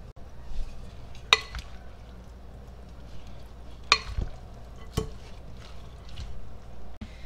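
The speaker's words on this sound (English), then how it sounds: "Now I'm going to stir it all up and it'll be ready to go." Pasta salad with crushed red pepper stirred in a bowl, soft wet shuffling with a few sharp clinks of a utensil against the dish, close and fairly quiet.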